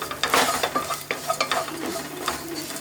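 A spoon stirs chicken roast masala with pepper and fennel powder in a pan, scraping in a steady repeated rhythm over a low sizzle, close and clear with no talking.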